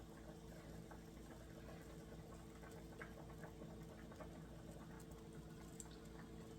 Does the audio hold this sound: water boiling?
yes